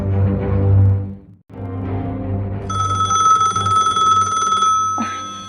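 A telephone rings with a sustained electronic bell tone that starts midway over a low droning background, then cuts off abruptly as if answered.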